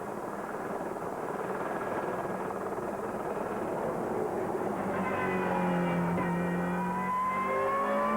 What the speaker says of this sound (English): And the Alpha at the end, the last of the 4 cars to take out from the pit road.